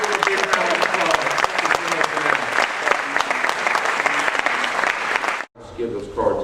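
A live magic show crowd claps for a volunteer invited on stage, a strong, sharp run of many hands lasting several seconds before stopping abruptly, with a brief murmur afterward.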